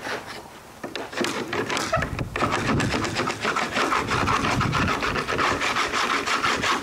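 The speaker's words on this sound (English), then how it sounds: "take my wax scraper tool and just lightly brush on this and basically just break down any large chunks of wax that I see on the ski" A wax scraper tool brushes wax off a ski in quick repeated strokes, a close, rhythmic scratchy rasp that starts softly and becomes steady and loud.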